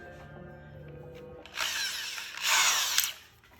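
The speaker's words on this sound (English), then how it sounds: "grab your drill." A power drill runs in short bursts as it drills into a guitar amplifier panel, a close, loud whirring that rises in pitch, stops briefly and then revs again louder before cutting off, with no talk over it.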